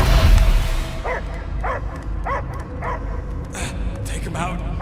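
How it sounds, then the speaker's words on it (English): A dog barks in the Guardians of the Galaxy video game, five or six evenly spaced barks with a whining edge against a rumbling game soundscape, after a loud opening thump. "I hear only barking."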